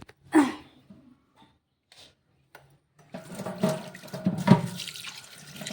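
Leafy ghol and chigal greens get washed in running water at a kitchen sink, a close splashing, gurgling rush that starts partway through after a brief voice and scattered soft knocks.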